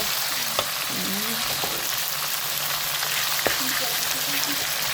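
Pork sizzles and spatters steadily in a frying pan in a home kitchen: a dense, continuous crackle with scattered pops and faint clinks, heard close and without talk.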